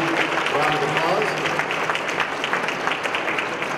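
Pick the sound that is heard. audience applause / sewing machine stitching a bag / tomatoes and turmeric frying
audience applause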